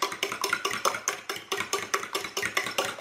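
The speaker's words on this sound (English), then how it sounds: "I've got a whole bunch of eggs and a generous portion of cream in here, and I'm just going to whisk them until smooth." Eggs and cream whisked in a bowl, a steady rapid rhythm of about four strokes per second, close and moderately loud, with no talking.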